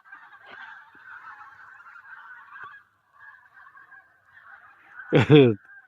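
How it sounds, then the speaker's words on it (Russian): Geese near a pike-fishing spot honk steadily in the background, then one goose lets out a loud, close honking burst near the end. "О, гуси."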